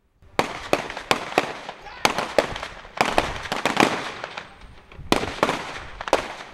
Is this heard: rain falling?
no